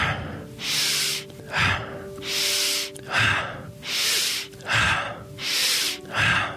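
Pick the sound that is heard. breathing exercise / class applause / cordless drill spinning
breathing exercise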